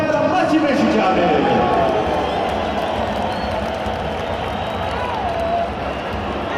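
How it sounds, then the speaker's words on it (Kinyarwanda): Stadium crowd at an APR FC versus Rayon Sports Super Cup match applauding Rayon Sports players, a broad wash of clapping and cheering under an announcer's amplified voice, fading slightly toward the end. "One more time, a round of applause ku bafana ba Rayon Sports."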